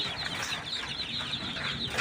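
Chickens cluck steadily and close by while being given Ranikhet vaccine drops in the eye, a busy overlapping chorus of clucks and calls from a group of birds.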